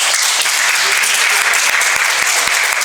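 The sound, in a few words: audience applause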